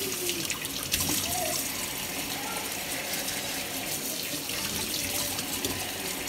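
Tap water runs continuously through small plastic breast pump parts in a sink as they are scrubbed, making a steady, close splashing rush with no talking.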